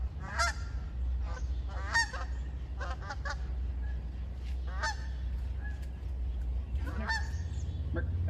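Geese honk in repeated bursts, several overlapping calls rising and falling over about eight seconds against a steady low rumble of background noise.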